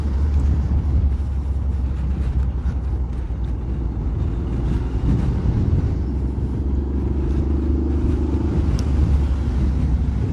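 Service vehicles and commuter cars passing during a women's cross country cycling race, a steady close engine rumble and road roar with a low droning tone, continuous and loud throughout.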